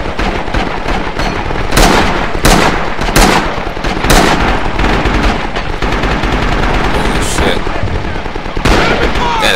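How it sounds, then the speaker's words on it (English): A machine gun fires in the Rising Storm/Red Orchestra 2 video game in a jungle battle, with loud sustained rapid bursts and dense gunfire running throughout, close and intense. "Does that machine gun ever run out of ammo?"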